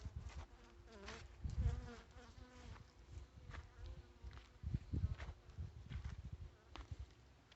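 Honeybees buzz around a hive on a deck, a quiet, fluctuating drone of wings passing close and drifting away, with soft handling noises mixed in.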